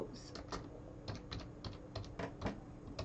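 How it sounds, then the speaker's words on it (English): Typing on a computer keyboard while coding a Raspberry Pi Pico W lesson, irregular bursts of close, crisp keystrokes with short pauses between them. "I will type it in again"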